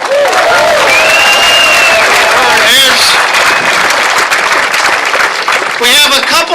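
An audience applauds at the unveiling of a Rocky Colavito statue in Cleveland's Little Italy. The clapping is steady and dense, and a voice speaks over it through much of the stretch.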